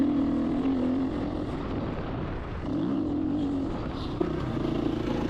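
Motorcycle engine droning steadily during a ride, with a sustained hum that rises and falls as the bike shifts and changes speed, heard up close with wind noise and no talking.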